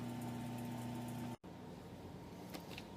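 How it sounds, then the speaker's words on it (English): Power sander on an extension fitted with 80-grit paper, cleaning up the bottom of a turned redbud wooden vase; a steady droning whir cuts out briefly, then resumes with a rougher, broadband grinding tone. "I'm using my extension with the power sander on it. Got about 80 grit on there to clean this thing up on the bottom"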